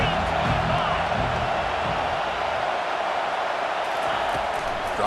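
A stadium crowd roars steadily in a college football video game, a dense, continuous wash of cheering, whoops and noise holding loud for the whole stretch, with no voice rising above it.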